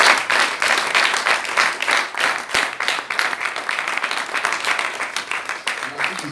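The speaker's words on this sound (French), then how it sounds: "Est-ce qu'on peut acclamer le Seigneur?" A church congregation applauding the Lord, sustained rhythmic clapping from a crowd, steady and fairly loud throughout with voices mixed in.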